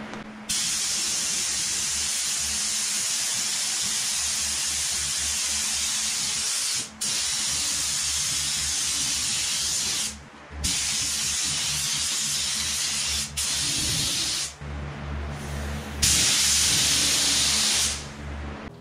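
A spray gun lays clear coat over body panels of a 2012 Toyota Camry under collision repair, giving a steady, close hiss in several long passes separated by short breaks as the trigger releases.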